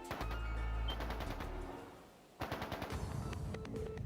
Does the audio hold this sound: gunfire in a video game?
yes